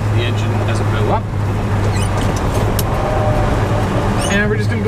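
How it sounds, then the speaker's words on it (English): A 1971 Chevelle with a FiTech EFI-8 fuel injection unit and new valve springs cruises along, its V8 giving a steady low rumble throughout, with someone talking over the engine noise. "So I'm on my maiden voyage of 2017 in my 71 Chevelle."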